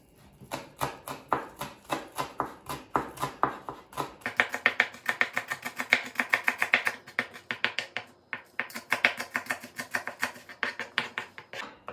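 Green onions chopped with a knife on a cutting board for a quick egg breakfast, a steady run of rapid, crisp taps close by, speeding up slightly partway through, with no talking.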